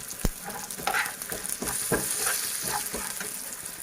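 Asafoetida and crushed red chili sizzle in hot oil for Sindhi dal, a brisk crackle with a few sharp spits and pops near the start, close and without voices.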